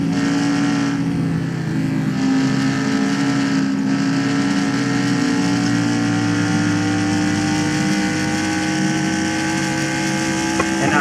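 Stock cars race in NASCAR Racing 2003, their engines holding a loud, sustained high-pitched whine, with other cars' engine notes layered in throughout a continuous lap at a 2018 Pennzoil 400 mock race.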